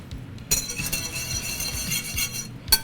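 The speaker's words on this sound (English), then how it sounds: "Okay, so I'm gonna give that a whisk." A whisk stirs salad dressing seasoned with salt and freshly ground pepper, and it clinks against the bowl in a quick, fairly regular series of close metallic taps that ends with one sharper strike.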